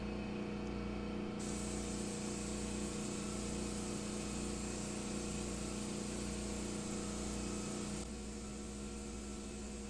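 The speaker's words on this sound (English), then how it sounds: "So now I'm just priming" Spray gun misting primer onto a wooden dresser, a constant loud hiss layered over a droning motor hum and pulsing compressor, easing slightly near the end.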